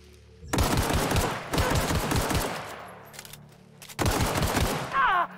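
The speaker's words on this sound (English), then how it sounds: "Scared him with the shooting." Automatic gunfire in The Outer Worlds video game: three loud, rapid bursts of shots, close and harsh, separated by brief pauses, with a short voice sound near the end.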